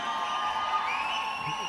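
A large crowd at a film event in Kerala cheers and whoops in a sustained roar, loud and continuous, with some shouting mixed into the noise.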